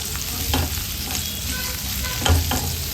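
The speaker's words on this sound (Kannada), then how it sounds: "ಒಂದು 2 ನಿಮಿಷ ಎಣ್ಣೆಯಲ್ಲಿ ಫ್ರೈ ಮಾಡ್ಕೊಳ್ಳೋಣ" Square-cut green capsicum pieces fry in oil in a pan for egg chilli, with a steady sizzle. A utensil scrapes and stirs through it, giving a few clear knocks that stand out, one of them louder near the end.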